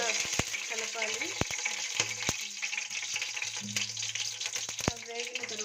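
Whole spices such as cumin, cinnamon and cloves sizzle steadily in a pan as a vegetable pulao base is stirred, with occasional sharp clicks of a spoon against the pan over a constant frying hiss.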